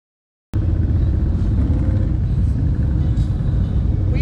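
A dense, loud rumble of motorcycles at the Thunder Beach bike rally at Frank Brown Stadium bursts in after a moment of silence and rolls on steadily, with engines droning together and nobody speaking.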